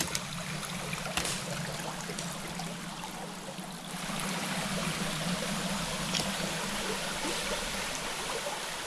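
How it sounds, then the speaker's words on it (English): Steady rushing and trickling of a creek flowing over rocks in the Maine woods along the Appalachian Trail, continuous and fairly close, with no voices. "A pretty nice creek."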